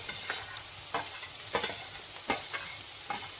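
Chopped onions, cut into medium-large pieces, frying in hot oil right after chillies, a steady sizzle broken by repeated scraping stirs at an uneven rhythm, close and clear.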